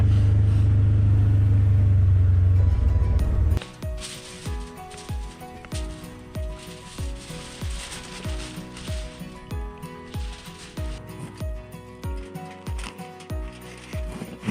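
An off-highway vehicle rolls back to camp on a Sunday night trail ride in Ouachita Forest, Oklahoma: a loud rumble at first, then a steady rhythmic mechanical clicking and clunking of the drivetrain.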